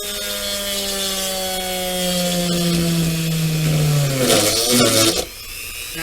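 A Dremel rotary tool bores a hole in a plastic War of the Worlds war machine model kit, a steady high whine that bogs and drops in pitch as the bit bites, then cuts out abruptly near the end.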